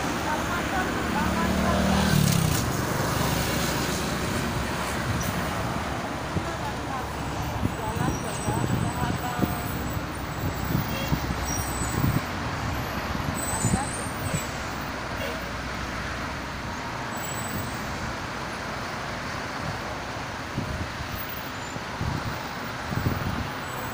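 Traffic jam on the Jakarta-Cikampek toll road, with a double-decker bus nearby: a continuous broad rumble of slow engines and tyres, moderately loud and steady, under people talking inside a vehicle.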